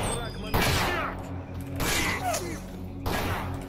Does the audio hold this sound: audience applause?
no